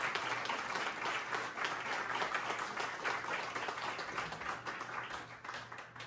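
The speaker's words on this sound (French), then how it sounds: "je pense que c'est une bonne main d'applaudissement" An audience at a candidacy announcement for the Avenir Saint-Jérôme party applauds in a steady, dense wash of clapping that holds at an even level throughout, fairly distant and with no voices on top.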